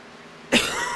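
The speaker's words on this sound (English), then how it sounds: "Sorry for the coughing, by the way." A single sharp cough bursts out halfway through, loud and close, with a short noisy tail after it. The speaker is a race commentator on an Xfinity race at Kansas who is just getting over an illness.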